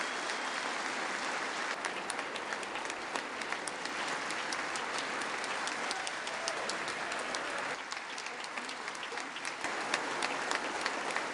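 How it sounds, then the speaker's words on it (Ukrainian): Members of the U.S. Congress give a sustained ovation during Zelensky's speech, a steady wash of many hands clapping in a large chamber, holding constant throughout. "Промова Зеленського близько 20 разів зривала овації."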